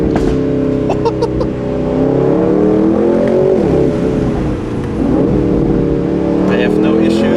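An Aston Martin Vantage Roadster on tight Black Forest roads, its engine holding a steady droning note that rises and dips slightly with throttle, loud and close inside the car, with someone talking over it.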